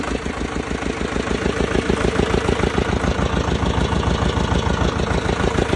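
A small Xingtai 220 tractor's diesel engine idles steadily nearby, a rapid even chugging knock that stays loud and constant throughout.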